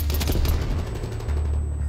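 Rapid bursts of gunfire in Black Ops, including a 1911 pistol, crack out loud and continuous in a dense, steady barrage with no voices.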